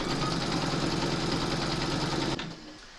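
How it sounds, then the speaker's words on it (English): An embroidery machine hums and stitches continuously through a hooped quilt panel, a steady mechanical drone with rapid needle pulses that cuts off shortly before the end. "pop your hoop into your machine and stitch round number 6"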